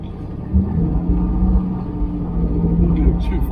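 An MGB fitted with a Camaro V6 engine pulls onto the road, giving a steady low engine rumble that swells slightly after the first half second and holds at a constant, near, in-cabin level with no talk.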